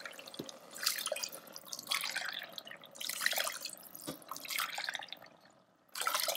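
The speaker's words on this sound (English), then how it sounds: "For 2 cups of rice, add 3 cups of water." Water trickles and splashes into an Instant Pot holding rice in uneven bursts, close and fairly steady, with no voices.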